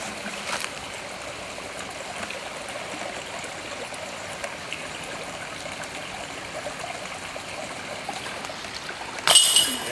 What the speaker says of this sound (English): Even though there is a river running down here